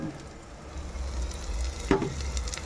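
Marinated meat sizzles and crackles in a pressure cooker, a steady close frying hiss with a brief clatter midway as pieces are added or stirred.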